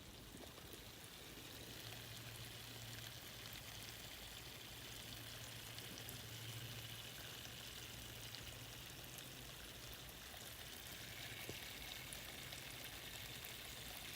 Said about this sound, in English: That bubbling and all that activity going on in there.